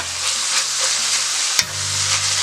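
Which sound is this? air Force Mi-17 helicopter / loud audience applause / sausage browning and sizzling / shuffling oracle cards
sausage browning and sizzling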